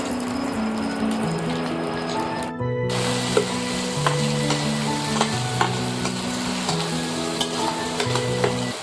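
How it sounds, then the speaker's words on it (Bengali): Steady sizzling of an egg omelette frying in hot oil in a kadai, with occasional light clinks and scrapes of a utensil over a continuous crackle. "ডিমের অমলেটটাকে গরম তেলে এবার ভেজে নেব।"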